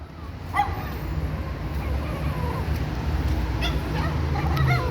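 A dog gives a few scattered barks and yips against a steady low rumble, one bark early and more a little later.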